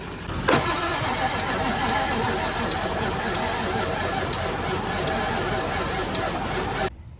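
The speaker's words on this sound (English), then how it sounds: "pull my truck up in their yard and jump start the truck" A 1996 Ford F-250 crew cab with a 7.3 Powerstroke diesel fires up on a jump start and keeps running in a steady, loud mid-range drone for several seconds before cutting off abruptly.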